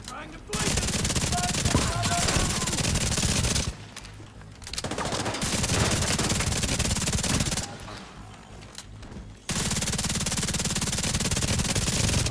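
Sustained rapid automatic gunfire in the video game The Division 2, loud dense bursts lasting several seconds with two short breaks where the shooting drops back, no talk over it.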